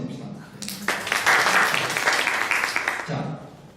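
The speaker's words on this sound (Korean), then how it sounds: "우리 박수 한번 칩시다." An audience claps together at a youth policy school lecture: a burst of applause that swells, holds for about two seconds and fades, with a speaker's voice just before and after it.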